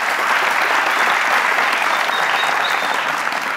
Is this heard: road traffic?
no